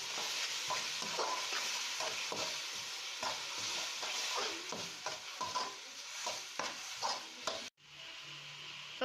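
Ginger garlic paste frying with onions in a pan for chicken biryani: a steady broadband sizzle with repeated scraping stir strokes, close and fairly loud, then the sizzle drops to a quieter hiss near the end. No one speaks.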